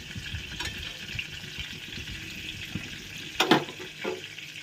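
Potatoes fry in oil with a low, steady sizzle, and a brief louder splash or stir stands out near the end, with no talking.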